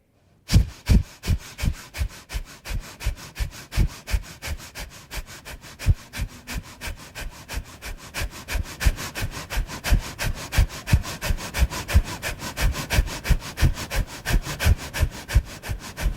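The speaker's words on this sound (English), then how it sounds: "we're going to begin breath of fire, 1 minute here" Rapid, forceful nasal exhalations of breath of fire yoga breathing, a steady fast rhythm of sharp sniffing pulses repeated continuously for about sixteen seconds, close and clear with no talking.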